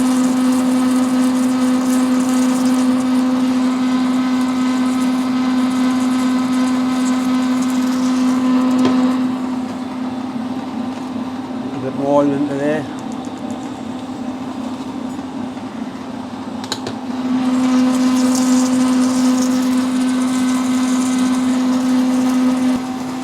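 A vintage metal lathe turning at 90 RPM gives a steady, loud mechanical hum with a strong tonal whine, which dips for a few seconds midway and then returns at full level. No one speaks.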